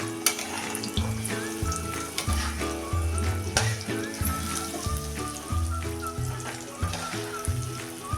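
Gram flour is stirred in hot oil for Maharashtrian pithla. Steady frying sizzle and scraping strokes sound close, over soft tonal background music.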